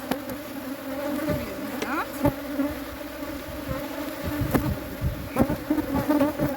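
Honeybees swarm around an opened hive during a hive split in a strong bluegum nectar flow. A dense, steady buzz holds close by, with sharp clicks and knocks of frames and hive tools scattered over it.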